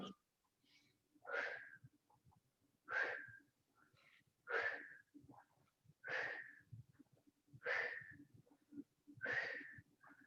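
Deep rhythmic breaths during an aikido warm-up, six long airy exhales in a slow steady cycle, close and quiet, with soft movement noise between them.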